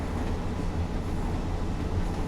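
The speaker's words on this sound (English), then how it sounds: "Ooh, another train!" Another train passing alongside a moving train: a continuous low rolling rumble and rail roar, moderately quiet and steady throughout, with no voices.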